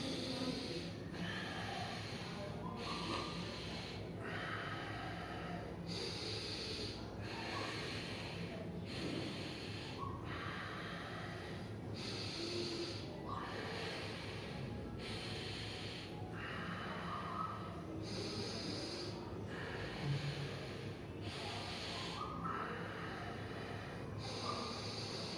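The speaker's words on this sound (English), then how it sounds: "We're gonna do alternate breathing. Inhale air from left nostril, exhale from right." Alternate nostril breathing in Anulom Vilom yoga, a slow, regular series of soft nasal inhales and exhales repeating about every two seconds, close and quiet.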